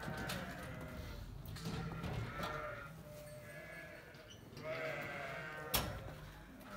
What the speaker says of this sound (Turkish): Ha kuzularım benim.